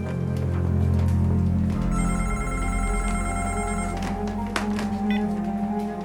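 Telephone ringing with an incoming call from an unidentified caller, a continuous electronic ring pattern that starts after a low rumble and carries on steadily, fairly loud under background noise with no talk.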